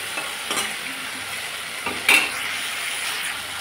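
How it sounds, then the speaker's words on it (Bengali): Food frying in a pan is stirred, giving a steady sizzle with a few soft scrapes and a light metallic clink from the utensil, close and alone. "একটু নাড়াচাড়া করে সামান্য পরিমাণে জল দিয়ে দেবো।"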